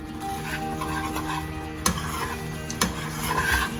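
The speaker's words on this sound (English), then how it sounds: "Now this sauce thickens up very quickly, so make sure you keep on stirring it so that there is no lumps" A spoon stirs a thickening sauce for creamed spinach in a pan, a steady soft scraping and bubbling with two sharp clicks of utensil against metal.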